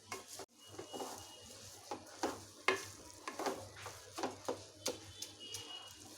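Sugar being stirred into carrot halwa in a pan, heard as a run of repeated scraping and clinking strokes, some a little stronger than others, over a faint low sizzle, close but quiet.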